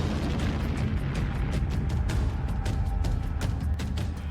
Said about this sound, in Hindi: एक साथ यूक्रेन के कई शहरों पर रूसी मिसाइलों ने हमला बोल दिया।